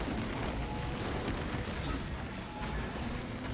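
A Kraken Penetrator auto bolt rifle in a video game fights a Tyranid swarm, producing a continuous, dense roar of rapid automatic fire that stays loud and unbroken throughout.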